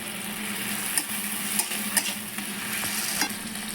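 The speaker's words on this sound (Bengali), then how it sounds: "এবার আমি এর মধ্যে এ আদা রসুন লঙ্কা পেস্ট করে রেখেছিলাম সেটা দিয়ে দিচ্ছি" Ginger garlic chili paste hits a pan of frying tomatoes for an egg masala, giving a steady close sizzle with a few soft clicks of stirring scattered through it.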